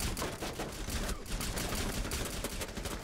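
Rapid automatic gunfire in the video game Rainbow Six Siege while shooting at the operator Jaeger, a dense fusillade of sharp repeated shots with a brief gap midway, loud and close.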